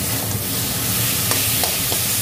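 Taro leaf greens stirred and mixed in a pan with a little oil, a steady loud sizzle with a few soft scraping knocks from the utensil.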